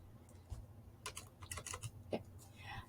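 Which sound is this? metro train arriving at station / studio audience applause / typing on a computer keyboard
typing on a computer keyboard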